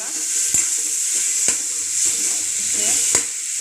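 Chibhda, a cucumber-like gourd, dropped into a hot tempering of green chilli and curry leaves, giving a steady close-up sizzle punctuated by a few sharp ladle clicks against the pan.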